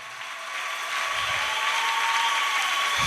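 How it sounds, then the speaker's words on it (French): Applause from a church congregation during an Easter sermon, a dense broadband wash that swells over the first second and holds steady at a moderate level, with a faint sustained tone running beneath it. "est-ce qu'on peut donner une acclamation au vainqueur ressuscité?"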